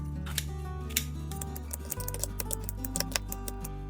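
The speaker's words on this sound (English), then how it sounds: "First, cut kimchi into small pieces with scissors like this." Scissors snip kimchi into small pieces for a single serving of kimchi fried rice, with quick, close metallic cuts repeating irregularly over a low steady hum and no talking.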